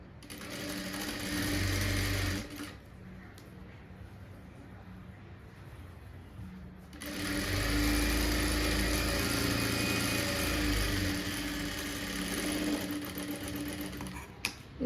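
An electric sewing machine stitching blouse fabric in a tailoring class runs in close, steady whirring bursts, stopping briefly in between, with faint background noise.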